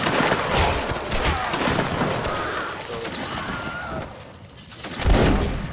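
Musket volley fire in a multiplayer black-powder video game, heard as a dense, ragged crackle of overlapping shots that rolls on steadily, then one louder, nearer shot near the end.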